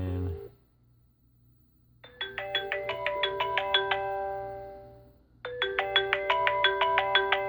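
A 3CX business phone system handset rings with repeated electronic ringtone bursts, two cycles separated by a pause, with a quiet low hum underneath.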